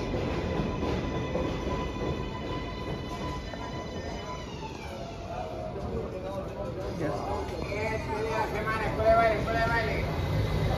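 A train rumbles past continuously in Queens, New York, with metallic wheel squeals and screeching tones rising and falling, steady and fairly loud, with voices faintly mixed in.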